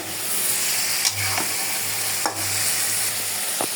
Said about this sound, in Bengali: দেখেন আলুগুলো ভালো করে কষানো হয়ে গেল।